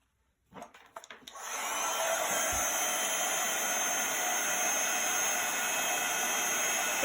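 Heat gun blowing over embossing powder on a card, a steady loud whoosh of hot air that switches on after a second of faint handling noises and then runs without a break.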